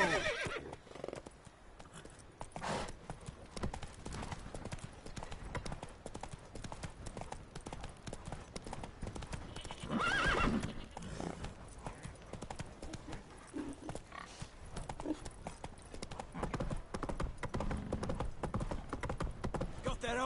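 Roach, a horse in the Witcher 3 video game, gallops with rapid clip-clop hoofbeats and gives a loud neigh midway, with occasional voices over the game sound.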